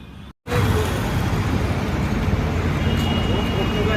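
Dense road traffic rumbles beneath a flyover near Alambazar in Kolkata, a loud continuous roar of passing vehicles after a split-second dropout at the start.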